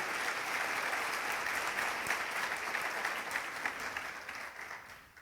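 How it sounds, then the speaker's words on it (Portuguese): A church congregation applauds at an Easter service, a dense steady clatter of many hands sustained for several seconds at moderate distance, slowly tapering toward the end with no voices over it. "Pode aplaudir o Senhor."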